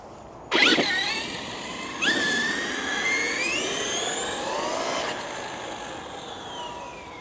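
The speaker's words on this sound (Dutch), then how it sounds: "Laten we eerst even een meting doen en dan kunnen we daarna eventjes een paar rondjes rijden." A Traxxas XRT RC car fitted with a Hobbywing motor revs up in bursts, its electric whine climbing steeply in pitch, then holding a loud high tone before easing off and fading.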